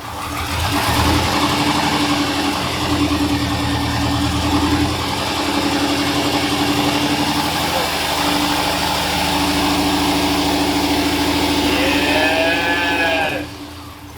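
An engine idles close by with a continuous droning hum from the throttle body, steady and loud throughout, ending with a brief whine near the end.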